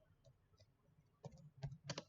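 A few quiet key taps on a computer keyboard while typing a search query, soft scattered clicks early then a brief cluster of sharper, louder keystrokes near the end, heard alone without talk.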